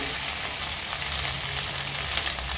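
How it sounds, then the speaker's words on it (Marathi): Cumin seeds and asafoetida sizzling steadily in hot oil in a pan, a dense, close, continuous frying hiss with no talk. "जिरं टाकलं थोडासा हिंग टाकायचा आणि हिरवी मिरची परतून घ्यायची चांगली"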